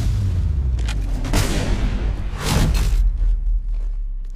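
Incoming gunfire and booming explosions in the shooter Apex Legends, heavy blasts and sharp cracks landing close, with a big burst early and another around the middle, then a rumbling low tail.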